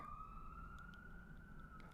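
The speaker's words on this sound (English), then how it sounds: "Shh, siren, go away." An emergency vehicle siren wails outside, a faint single sustained tone that stays steady and slightly rising in pitch, heard alone and at a distance.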